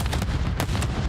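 Sharp gunshots in a Call of Duty competitive match, a few distinct loud cracks spaced apart over a busy game-sound background.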